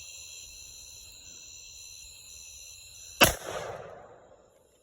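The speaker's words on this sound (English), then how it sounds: "This is the 50 AE muzzle flash at night." A single sharp, loud .50 AE pistol shot, 300-grain load, cracks out at night over steady chirping insects, then rolls off in a fading echo.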